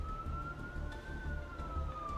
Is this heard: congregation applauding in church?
no